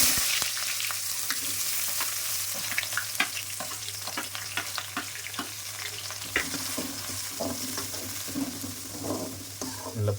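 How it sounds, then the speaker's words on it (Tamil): Onions sizzle and crackle as they sauté in butter in a pan for a chicken curry, a steady close frying hiss with intermittent stirring scrapes and spatula taps and no talking. "நல்லா பொன்னிறமாக வர வரைக்கும் வதக்கிக்கோங்க"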